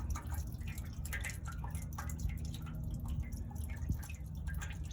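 Radiator fluid draining from a Ford F150, heard as a soft, irregular patter of drips over low background noise, close but faint.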